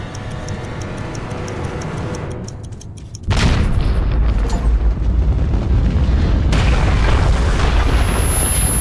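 A fuel-filled gallon bomb explodes in the post-apocalyptic game Metro 2033 Redux; a steady ticking ambience gives way to a sudden loud boom that leaves a heavy, sustained roar.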